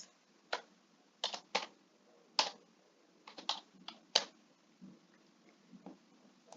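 Sparse, irregular clicks of a computer keyboard as someone types subject names into an MS Excel student marksheet. Keystrokes come singly and in short bursts over a quiet room hum, close and crisp.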